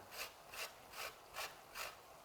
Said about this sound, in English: we're going to grate the zest of a lemon